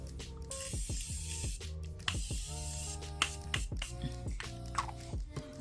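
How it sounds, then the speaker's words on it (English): A Morphe Continuous Setting Mist is sprayed during a makeup routine, giving soft, quiet hissing bursts near the start over faint background tones and small clicks. "I'm going to use my Morphe Continuous Setting Mist Spray to just melt all the makeup"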